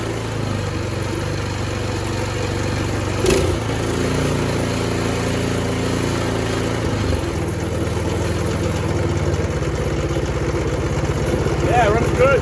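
A Troy-Bilt Storm 2620 snowthrower with an MTD Powermore engine runs steadily and loudly up close, its hum shifting slightly in pitch when the throttle changes partway through.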